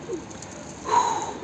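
A bird call, likely a pigeon among a pigeon fancier's flock, rises briefly and faintly from a low outdoor hum, a single soft cooing tone near the middle of the moment.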